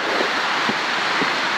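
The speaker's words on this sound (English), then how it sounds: "Fantastic waterfall there, and a plunge pool" Sourmilk Gill, a waterfall dropping about 100 metres into a plunge pool in the Lake District fells, gives a steady broadband rushing roar, heard from a distance with wind over the microphone.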